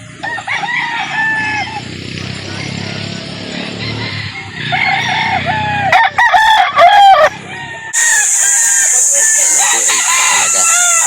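Roosters at a gamefowl market in Calauan, Laguna crow loudly and repeatedly, with clucking hens and other crows overlapping at close range.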